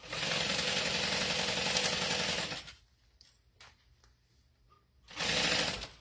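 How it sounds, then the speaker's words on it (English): Sewing machine basting a zipper onto a fabric bag: a loud, steady run of rapid stitching, a pause of about two and a half seconds with small handling noises, then the stitching starts up again. "We're going to baste our zipper on."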